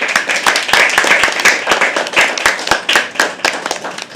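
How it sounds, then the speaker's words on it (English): A crowd at a live poetry open mic applauding with brisk, sharp claps throughout, loud and close, with a few distinct hand claps standing out from the rest. "Can we please have an applause for that?"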